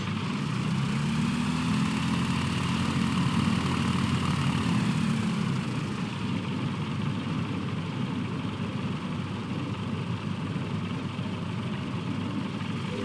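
Aircraft at Charleston airport (KCHS), a steady loud engine or propeller drone with a low rumble that holds strong for the first five seconds, then continues as a broad, slightly softer roar with no talking.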